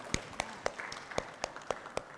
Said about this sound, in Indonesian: Tepuk tangan dulu dong untuk Rini.